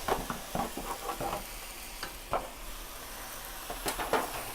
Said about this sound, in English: Now we're gonna combine back our onions, garlic, and pepper.